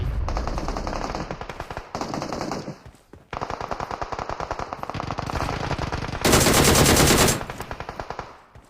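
Automatic gunfire in the mobile game PUBG Mobile: rapid, loud bursts with brief pauses and one dense, sustained volley near the end, with no voices.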